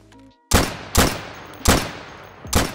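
Four loud, heavy gunshots from a Fortnite weapon, evenly spaced about half a second apart, each with a booming echo tail.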